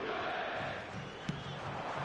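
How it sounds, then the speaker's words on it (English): A stadium crowd in eFootball 2022 on PS4 murmurs and cheers in a faint, steady roar, with one brief thump near the middle standing out above the background. "Crowd appreciates good football all round there."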